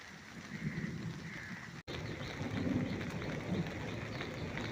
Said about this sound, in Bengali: দেখতে পাচ্ছ খুব বৃষ্টি আসছে কিন্তু